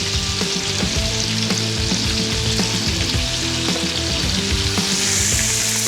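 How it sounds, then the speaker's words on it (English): Bear meat sears loudly in a hot pan for a beer-braised bear dish, with a steady, dense sizzle that runs continuously throughout, broken by small crackles and the occasional scrape. "So we'll get that sear on both sides"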